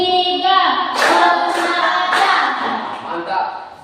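Schoolchildren in an Indonesian classroom clap in a counted pattern, sharp bursts of claps arriving in short groups over sustained voices chanting along.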